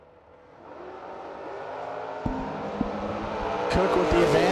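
Drag race cars launching, a Fox Body Mustang alongside a small wagon on gold Magnum wheels, engine roar building steadily with a couple of sharp pops near the end, heard from the stands.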